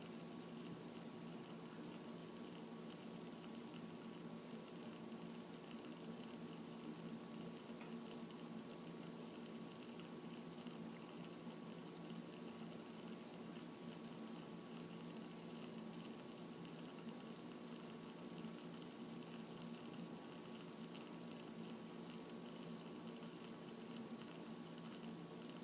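Sugar heated until it bubbles gives a steady, faint boiling hiss and patter. The sound holds constant throughout, with a faint mechanical hum and no talking.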